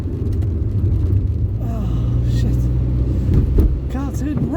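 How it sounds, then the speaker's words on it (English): A Peugeot car rumbles past on a one-way street, its engine noise rising and falling, mixed with other road traffic while people talk over it. "That car just went up the wrong way on a one-way street."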